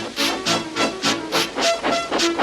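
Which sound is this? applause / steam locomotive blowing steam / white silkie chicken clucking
steam locomotive blowing steam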